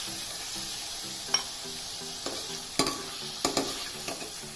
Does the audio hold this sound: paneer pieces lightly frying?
yes